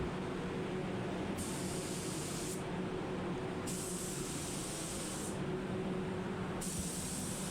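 A spray gun applying a candy paint colour coat hisses in repeated long bursts, each lasting about a second or more, over a constant low mechanical hum.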